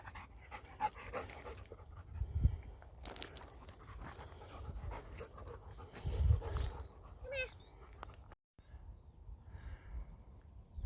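A big dog pants rhythmically on a hill walk at Leckhampton Hill, heard close over outdoor ambience with a few soft thumps and brief gaps.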